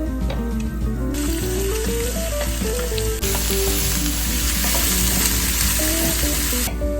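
Diced onion hits a pan of browned garlic and fries with a loud, continuous crackling sizzle, broken by a few clinks of a utensil close by.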